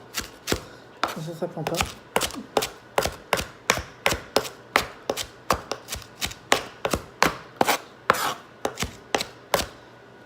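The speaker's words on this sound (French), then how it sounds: "Faut pas hésiter à couper relativement fin" A knife chops fresh coriander finely on a cutting board for a green curry, a brisk, steady series of close, sharp taps continuing for about ten seconds, with a brief spoken remark near the start.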